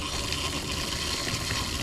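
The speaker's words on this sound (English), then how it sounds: "So when I open it, you should be able to hear this valve open." An RV black tank valve opens and flush water rushes into the tank, producing a steady, dense, hissing flow with no breaks, loud and close throughout the brief moment, with no speech.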